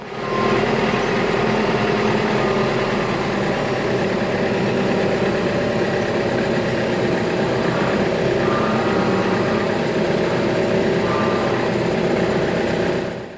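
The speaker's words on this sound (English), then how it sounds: "We got our John Deere 4066R towing the sunflower 9007 pasture pleaser." A John Deere 4066R tractor towing a Sunflower 9007 seed drill rumbles steadily and close by, a loud, continuous engine drone with rattling machinery and no talk.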